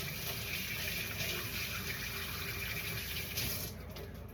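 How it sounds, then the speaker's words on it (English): Water runs from a kitchen tap in a steady, close gush while hands are washed, continuous for several seconds before the flow drops slightly near the end. "Washing my hands real quick."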